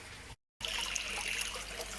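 Water trickles steadily from a moving bed filter into a koi pond bog filter, a faint continuous splashing with a brief gap of silence near the start.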